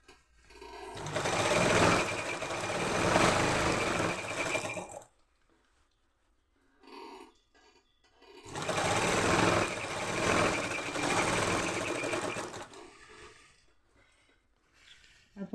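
A sewing machine runs in two long, loud stretches while top-stitching a uniform top, its steady mechanical whir lasting several seconds each time, with a quiet pause and a few brief handling noises between the runs.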